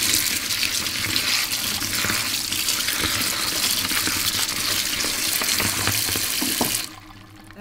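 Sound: rosehips being washed under running water

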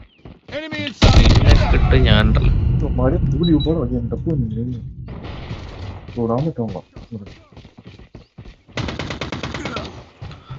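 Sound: gunfire in a video game

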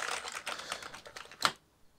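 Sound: typing on an Amiga 500 keyboard

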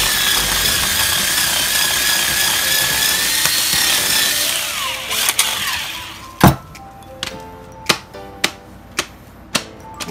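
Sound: power drill boring holes

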